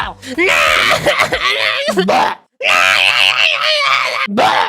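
A baby cries loudly in a home, with sustained, wavering wails that run almost continuously and break off once for a short gap before starting again.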